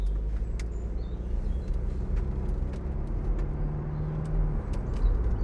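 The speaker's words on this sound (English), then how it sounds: "So I'll just drive down the road and a bit up the dual carriageway" A 2012 Mercedes-Benz SLK250 CDI BlueEFFICIENCY AMG Sport with a 7G automatic driving down the road, heard from inside as a steady low engine and road rumble with faint small rattles.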